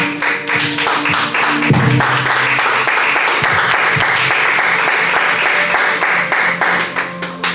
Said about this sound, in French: Est-ce qu'on peut acclamer encore très fort pour la parole de Dieu?